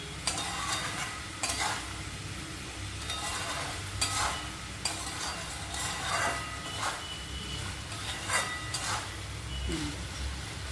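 A spoon stirs pumpkin curry with chickpeas and potato in a pan right after ground garam masala goes in, giving repeated scraping strokes every second or so over a steady low sizzle, close and moderately loud, with no talking.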